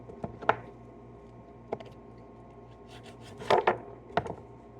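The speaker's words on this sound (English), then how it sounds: "I'm just chopping up the wings here." Chicken wings are chopped on a board in a handful of scattered, sharp knife strikes, some in quick pairs, close and quiet against a low background hum.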